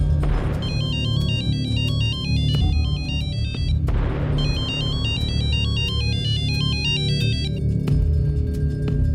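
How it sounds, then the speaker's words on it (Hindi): A mobile phone rings inside a room at a lodge, playing its repeating electronic ringtone melody loudly in two long bursts over a low background rumble, with no one talking. "सलोनी का फोन जरूर इसी लॉज के रूम में बज रहा है।"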